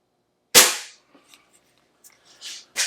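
An Umarex Trevox air pistol fires once at a 10 meter indoor range: a single sharp, loud crack that tails off, followed by faint small clicks and a brief second burst of noise near the end.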